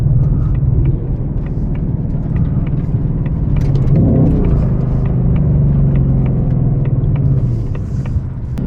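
A 2024 Ford Mustang Dark Horse with a six-speed manual rumbles steadily while being driven, a deep continuous engine drone with a brief swell midway and faint clicks over the top.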